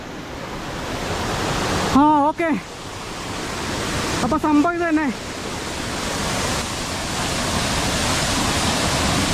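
Loud, constant rush of a powerful waterfall at Anoor village, a dense hiss-and-roar that never lets up, with someone speaking briefly twice over it.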